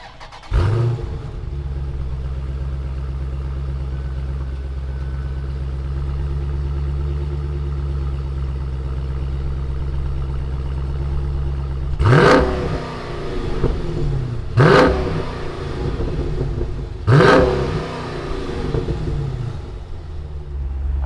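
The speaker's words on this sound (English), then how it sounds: "Let's go ahead and fire her up." A 2016 Dodge Challenger SRT muscle car engine fires up with a sharp start, settles into a loud, deep, steady idle, then gives three quick, punchy revs spaced a few seconds apart.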